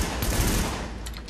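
Dense, continuous gunfire from The Division, a steady loud barrage of rapid shots filling the whole moment with no pauses.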